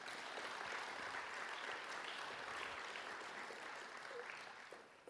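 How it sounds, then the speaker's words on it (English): A crowd of audience members applauds at a sustainability challenge demo day, steady dense clapping lasting several seconds before it thins out at the end. "a big round of applause for that"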